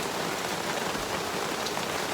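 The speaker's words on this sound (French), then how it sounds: "ça fait 2 heures qu'il pleut à torrent" Heavy torrential rain pours down on a bikepacking trip, a dense, constant hiss of countless drops hitting surfaces, loud and unbroken throughout with no voices.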